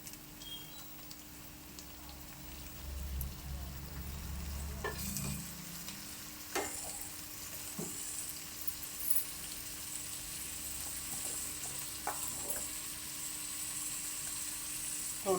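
Finely chopped tomato frying in a pan for masala egg fry, a steady soft sizzle with stirring scrapes and occasional clicks of a utensil against the pan, close and continuous with no talk.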